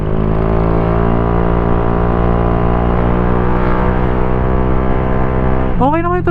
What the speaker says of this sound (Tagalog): Okay na yung tunog ng pipe mo ah.